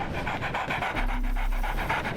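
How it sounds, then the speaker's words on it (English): A puppy in the video game Sherlock Holmes The Awakened pants steadily and rapidly up close, a rhythmic breathy huffing that continues throughout with no speech. "Ooh, it's a puppy. Pet puppy. So, Barnes has a dog now."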